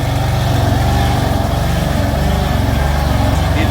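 Nissan S15 engine running loud and steady with its exhaust valves closed, a deep continuous droning rumble held close and unbroken throughout, with no talking.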